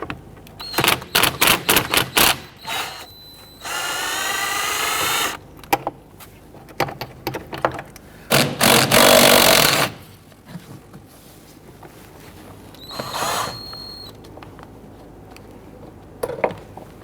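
Power tool loosening an airbox fastener on a Kia Sorento during brake master cylinder work, short bursts of whirring between sharp clicks and rattles, close and loud.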